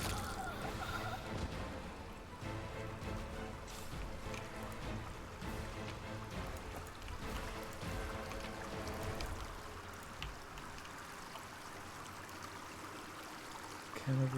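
Steady water flowing through aqueducts in the video game Pathfinder: Wrath of the Righteous, a continuous faint rushing that stays even from start to end.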